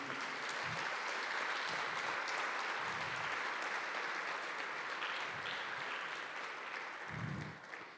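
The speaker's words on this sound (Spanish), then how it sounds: "Iglesia, denle un aplauso al Señor porque Él es bueno" A church congregation applauds for several seconds, a dense, sustained roar of many hands clapping that fades slightly near the end, with no speech over it.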